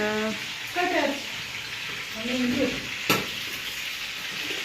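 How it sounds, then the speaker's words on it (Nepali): Chicken cooking in a frying pan sizzles steadily throughout, with a single sharp utensil clack midway, while people talk over it close by. "यता चिकन पाक्दैछ"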